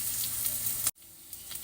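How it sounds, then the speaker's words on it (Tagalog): Garlic and red onion sautéing in a pan, a close steady hiss that cuts off abruptly partway through, then a quieter sizzle with faint stirring. "gisang-gisa na ang ating garlic at onion"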